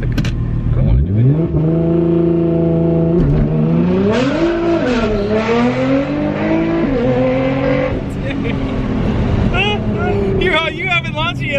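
A tuned 700+ horsepower Nissan GT-R accelerates hard with its tires spinning, the engine loud and close as it climbs and shifts through rising, falling revs, while people talk over it from inside the car.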